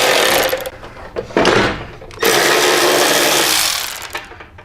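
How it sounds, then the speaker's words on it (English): Rapid, buzzing ratchet clicks loosen 3/4 inch bolts holding a stretched rear fender on a motorcycle, coming in close, loud bursts broken by short pauses. "I'm just use a ratchet to go ahead and pull those."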